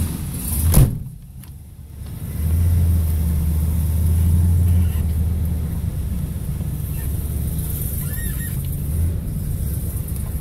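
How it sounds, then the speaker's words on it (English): A 1970 Buick GS 455 Stage 1 with a four-speed manual pulls away for a drive around the block, a low engine rumble swelling after a brief clunk and then holding a steady, moderately loud drone with no voices. "we're just going to go for a ride around the block"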